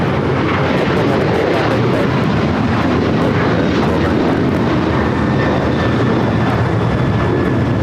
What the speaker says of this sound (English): 1293 taking off to Houston Intercontinental on the 737-900ER.